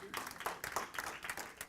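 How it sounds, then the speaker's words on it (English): Brief, faint applause from a small audience at a tech talk, scattered claps in quick irregular bursts. "big round of applause"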